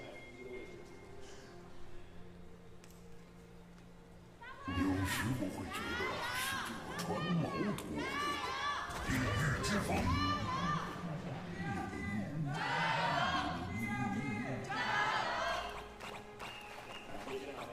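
An arena crowd at a League of Legends LPL esports match cheers and shouts loudly and continuously for over ten seconds, following a quieter stretch at the start.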